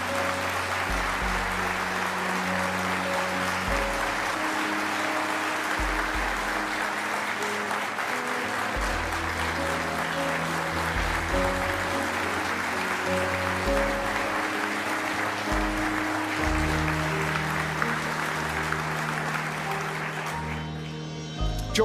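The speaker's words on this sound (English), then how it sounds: "Yeah, you can clap for that." Ceremony audience applause at a Pentagon Hall of Heroes Medal of Honor event: continuous moderate clapping at a distance, blended with sustained low musical tones, lasting about twenty seconds.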